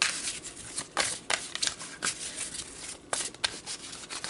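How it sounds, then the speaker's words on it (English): Tarot cards are shuffled close by in repeated papery riffles and rubbing bursts, irregular in rhythm, with no talking. "Just want to make sure I don't shuffle those the wrong way."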